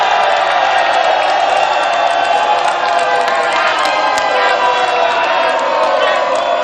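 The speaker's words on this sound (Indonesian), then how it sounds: "Saya ingin minta suara yang paling meriah dari para pendukung pasangan calon nomor 1 dan juga 2." Supporters of two candidate pairs at a regional election debate in a convention hall cheer and shout loudly, a dense, sustained crowd roar with scattered whistles and yells and no pause.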